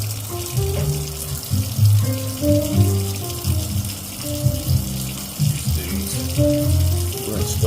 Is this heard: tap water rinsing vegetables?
yes